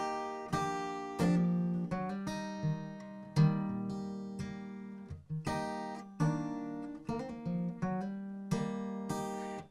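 A brass horn section plays a bright, punchy melodic tag from a song in harmony, with short accented stabs and sustained notes over a steady beat, loud and close.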